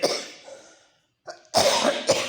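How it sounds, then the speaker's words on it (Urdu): A few hoarse coughs, close by: one rough burst, a pause, then a louder cluster of two or three coughs. "سردی بہت ہے، کھانسی بہت ہے"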